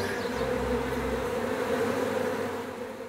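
A swarm of bees pours from a hive in a great broken oak, making a dense, steady buzzing hum that stays close and loud for about three seconds, then eases slightly near the end, with no voices.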